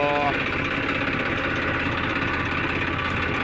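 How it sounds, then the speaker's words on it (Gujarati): A tractor engine idles steadily, a low rhythmic diesel throb that stays constant and fairly loud throughout, heard close by with no other prominent sounds. "ટ્રેક્ટર કાઢીને જઈએ છીએ ગામ સુધી"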